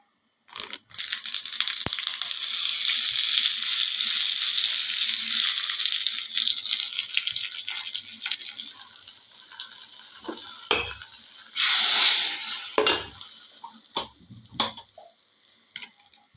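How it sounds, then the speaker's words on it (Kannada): A tempering of spices sizzles in hot oil for a chutney served with pundi, a dense hissing fry that rises sharply, tapers off, then returns in short bursts with light rattles; no one speaks. "ಇನ್ನು ಇದಕ್ಕೊಂದು ಒಗ್ಗರಣೆಯನ್ನು ಕೊಡುವ."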